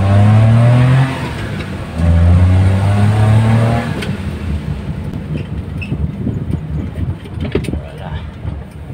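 Suzuki F6A engine in a multicab during a test drive, revving with rising and falling drone at first, then settling into rougher road and engine rumble, with occasional talk over it.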